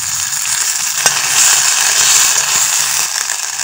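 Ginger garlic paste fries in hot oil with onion and chili during the cooking of a village papaya vegetable dish. The sizzle is loud, steady and close, with one brief clack from a utensil.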